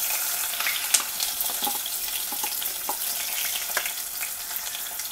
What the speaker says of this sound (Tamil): கடுகு நல்லா பொரிஞ்ச பிறகு வெட்டி வச்சுருக்க வெங்காயம் போட்டோம்.